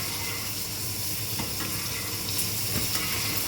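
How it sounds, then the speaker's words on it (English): A steak fries in a pan while garlic and herb oil is spooned over it, giving a dense, continuous loud sizzle and crackle with faint spoon taps, close up. "You're just going to baste your steak with that."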